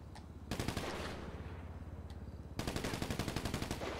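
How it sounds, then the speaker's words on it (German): Rapid automatic gunfire in the video game GTA 5 Online rattles out in two long bursts, the second sharper and denser, fairly faint overall with no talking. "Ich habe irgendwie einen komischen Schuss ausgelöst."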